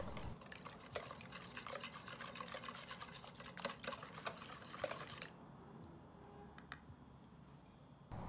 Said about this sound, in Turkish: Süt ve yumurtaları iyice çırpalım.